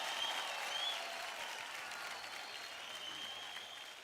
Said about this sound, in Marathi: जोरदार टाळ्या होऊन जाऊ द्या पुण्यकरसाठी